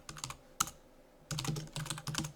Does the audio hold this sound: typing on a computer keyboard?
yes